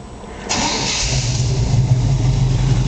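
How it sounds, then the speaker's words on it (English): A 1971 Chevrolet C-10 short-bed Stepside pickup cranks briefly and catches, its engine firing up at about half a second and settling into a loud, steady, close-up idle with low rumble. "Let you hear it start up and run and she'll fire right up."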